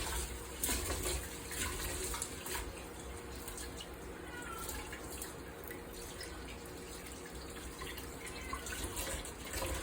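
Brown rice being washed under a running kitchen tap, with a steady close rush of water and light splashing throughout, no speech.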